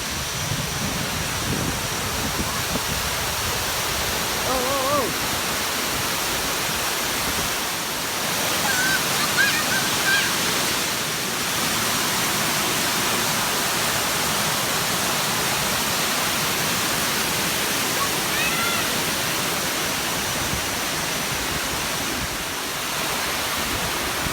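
Mountain waterfall on Bangka island, Indonesia, a steady, loud broadband roar of falling water that runs unbroken throughout, with a faint bird chirp or two above it.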